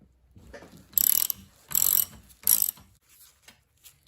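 A bolt is wrenched out of a 1964 MGB rear leaf spring held in a vise, giving three sharp ratcheting bursts in close succession, followed by a few faint metallic clicks.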